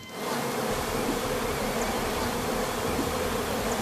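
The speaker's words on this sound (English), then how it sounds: "Look at this massive swarm of bees." A dense, continuous buzzing of many bees fills the air, loud and close, droning steadily without pause.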